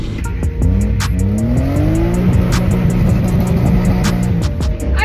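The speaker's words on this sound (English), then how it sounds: "My very first lap drifting this car properly was at night and in the rain." A BMW E36 drift car revs hard on a wet track at night, the engine climbing in pitch through repeated throttle blips with brief tire squeal, close and loud.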